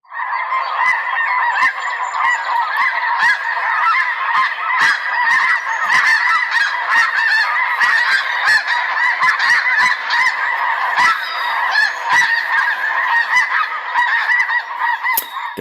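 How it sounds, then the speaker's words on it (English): A large flock of snow geese honking on a wintering stopover at Montezuma, a dense, continuous cacophony of overlapping calls that stays loud and near throughout, with no talk. "And so when we have snow geese, they make a lot of noise. It's a cacophony of sound."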